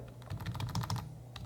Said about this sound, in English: you can use up or down arrow key from the keyboard